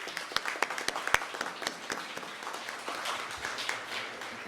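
Applause for children and parents at an opening ceremony, steady scattered clapping from a gathered audience, fairly faint and a little distant, with no talking over it.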